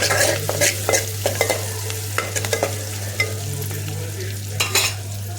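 Turmeric stirred into hot oil in a pan, a steady sizzle of frying under irregular scrapes and clinks of the stirring utensil, close and moderately loud with no talking.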